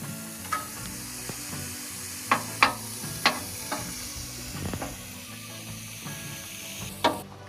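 Ground beef fries in a pan at a campsite in Michigan's Upper Peninsula for a tacos al pastor variation, with a quiet steady sizzle broken by a string of sharp scraping stirs and clanks from a utensil.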